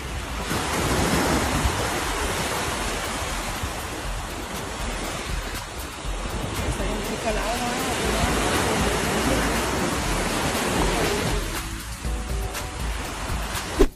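Ocean surf at the sea washes in continuously, a loud and steady roar of breaking waves with wind noise, with no voices heard.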